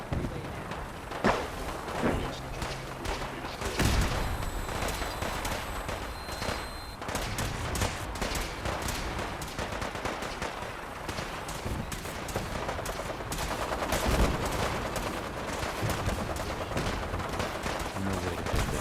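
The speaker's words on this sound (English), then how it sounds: "I'm going shooting." Continuous gunfire in the game Fallout 4, dense rapid cracks of automatic and single shots layered over a busy, loud battle din that runs steadily through the whole stretch.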